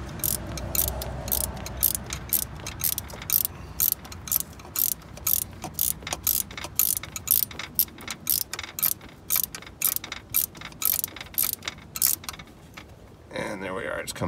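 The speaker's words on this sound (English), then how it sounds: "I've got my thumb on the center of the bolt head and just swinging the ratchet now with my" Ratchet clicking in quick repeated bursts while snugging a bolt on a 2006 T1N Sprinter cargo van, close and crisp, with a brief pause and a different rustle near the end.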